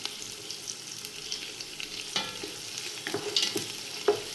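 Fried onions with fresh coriander leaves being stirred in a pan for biryani, a soft steady sizzle with scattered scraping spatula strokes growing busier toward the end, no voices.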